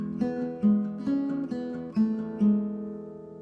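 Guitar playing the second part of the intro to a song, a short phrase of about six plucked notes and chords ringing clearly at a moderate pace, no voice.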